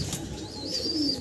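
Young fancy pigeons, Lahori black among them, coo softly nearby in a single short, breathy call.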